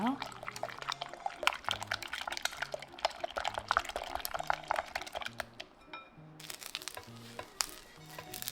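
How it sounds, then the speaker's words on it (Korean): Egg batter of four eggs with finely chopped carrot, lettuce, salt and sesame oil being stirred in a bowl, giving soft wet clicks and sloshing over steady background music with low repeating notes. "소금, 참기름, 준비한 재료들을 모두 넣어 잘 섞어주세요"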